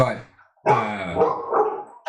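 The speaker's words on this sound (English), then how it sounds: "somebody's got the dogs barking in the background" A watchdog barking in the background during a live stream, a few yelping, harmonic barks mixed with a voice, fairly close and loud over about two seconds.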